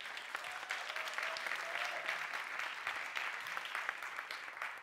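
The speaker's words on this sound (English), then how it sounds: "you don't need to applaud now" Audience applause at a science communication competition semi-final, with steady, dense clapping throughout that stays fairly loud and even and holds at one level without fading.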